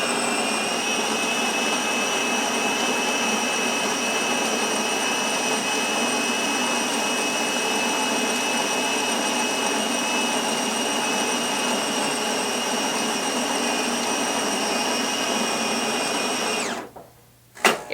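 A Gaggia Titanium espresso machine grinds coffee beans with a loud, steady, high-pitched whine that runs unbroken for about sixteen seconds, then cuts off abruptly, followed by a short clunk.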